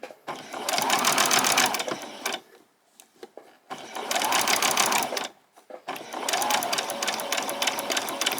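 A sewing machine runs in three bursts of steady, close stitching on a fabric PJ top, with short pauses between them as it back stitches. Soft handling noises fill the gaps.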